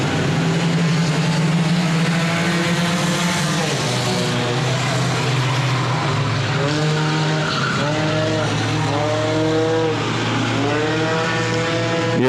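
Open-wheel and limited modified race cars roar around Lonestar Speedway, engines loud and continuous with rising and falling revs as cars pass, tires squealing, and a constant crowded track ambience.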